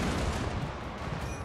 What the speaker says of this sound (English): Lots of explosions here.